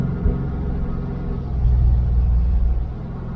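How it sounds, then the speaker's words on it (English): 1978 Dodge Aspen R/T engine running while the transmission shifts into third, a loud low rumble that swells and deepens halfway through. "Sounds like it's shifting to third."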